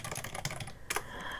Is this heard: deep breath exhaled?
no